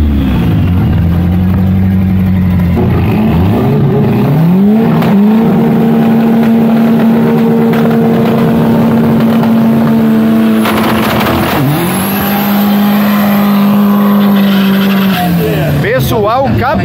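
Street cars, a Chevette against a Kadett, race on the Tarumã circuit, their engines droning loud and close throughout, with pitch sweeps as gears change and the revs climb, under excited commentary.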